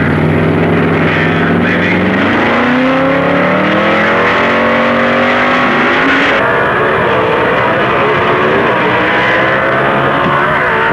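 A 1955 Chevy C-modified production car and a rival car roar down a drag strip, loud continuous engine noise with rising pitch as they accelerate through the gears, heavy and close.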